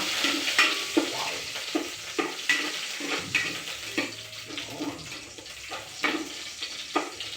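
Garlic and onion sizzling in a pan, bright frying hiss punctuated by a regular series of spatula scrapes and stirs, close and fairly loud.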